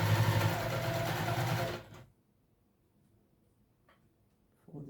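A sewing machine top stitches a wristlet, running steadily and fairly close for about two seconds, then stops; quiet handling sounds follow.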